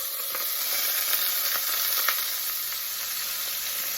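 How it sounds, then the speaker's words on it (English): Pot roast searing in hot olive oil gives off a steady, loud close-up sizzle that never lets up, with faint crackles and pops scattered through it and no talking. "And I want to sear this so I can get it brown on all sides."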